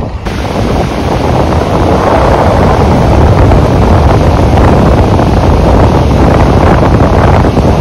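Sea waves washing onto Ashwem beach make a steady, loud roar, blended with heavy wind rumble across the mic and no talk.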